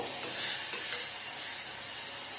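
Mint leaves fry in a pan for a Karnataka-style donne biryani, giving a brief, soft, even sizzle heard up close with no voices.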